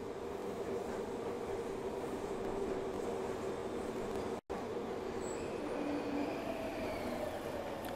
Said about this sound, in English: here comes the subway train